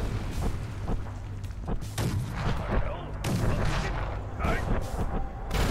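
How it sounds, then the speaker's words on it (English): In the Fallout: The Frontier game, artillery grenades explode in a run of repeated booms and sharp blasts, loud and close and spread across several seconds, with faint crackling between them. "Okay, so I should use those artillery grenades"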